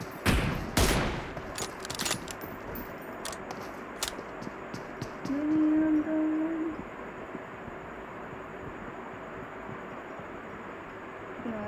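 Gunfire in PUBG Mobile: a few sharp, loud shots bunched at the start, followed by scattered fainter distant cracks over a steady background hiss.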